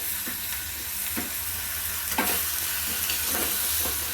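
Steady sizzling and crackling of ginger garlic paste frying in hot oil, close up, with a few soft scraping stir sounds and no voices.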